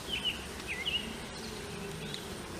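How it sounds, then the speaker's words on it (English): Honeybees hum softly around an opened hive box during an inspection, a faint, continuous low buzz with a few brief higher chirps drifting over it. "The bees."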